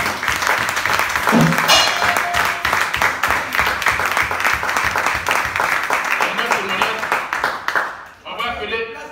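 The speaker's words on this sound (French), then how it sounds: "Applaudissons pour Jésus." A church congregation claps and applauds during a Sunday service, sustained dense clapping lasting around eight seconds before fading, with voices mixed in and a brief quieter tail.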